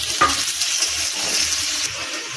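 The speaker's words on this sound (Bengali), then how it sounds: "এবার কিন্তু টমেটো দিয়ে একটু ভাজবো।" Tomatoes fry with lightly browned onions in a pan, a close, steady sizzle broken by a few spoon scrapes and stirring knocks near the start.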